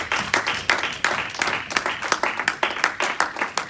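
A church congregation claps along during a sermon, the rhythmic applause steady, fairly close and full, with a few voices mixed faintly into the clapping.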